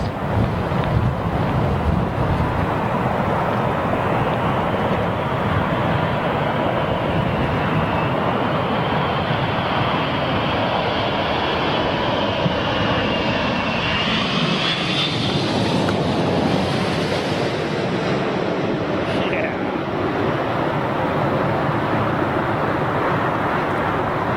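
An airliner lands at London Heathrow in strong storm winds. A loud, sustained engine roar swells as thrust reversers engage, and heavy wind buffets the microphone throughout.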